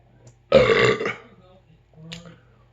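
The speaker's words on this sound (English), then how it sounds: "I feel a burp coming on" A single loud, drawn-out burp after drinking Dad's Root Beer, close to the mic and lasting about half a second, followed by a softer voiced sound a moment later.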